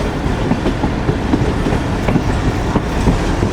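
Sukkur Express train pulling away from Sukkur station, a loud continuous rumble with rhythmic clickety-clack of wheels over rail joints, heard up close.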